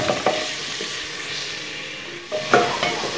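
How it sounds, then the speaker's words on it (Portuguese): A wooden spoon stirs beans in an old pan over a steady frying sizzle, with a couple of scraping strokes against the metal. "Aqui eu vou mexer ali, só que eu vou pegar uma colher de pau."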